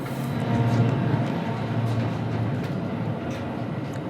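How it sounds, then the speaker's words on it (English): A low, steady rumble with a droning hum persists throughout, like a train rolling past at a moderate distance, fairly loud and continuous. "There goes the ghost train. You hear that?"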